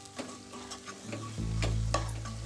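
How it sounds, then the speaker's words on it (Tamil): Tomato thokku fries in a pan while being stirred, giving a series of soft scraping strokes over a rising sizzle and a low steady hum. "அடி பிடிக்காம நல்லா கலந்து கொடுக்கலாம்."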